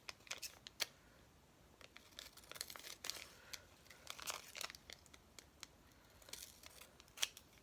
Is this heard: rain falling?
no